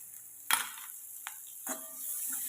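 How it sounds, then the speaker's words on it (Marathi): Crushed garlic tipped into onions frying with salt in a pan, a sharp clatter and burst of sizzle followed by a couple of softer stirring scrapes over a steady background hiss. "आता ह्याच्यामध्ये तर मी लसूण घालते लसूण ठेचून घेतलेलं होता ना हा घालते"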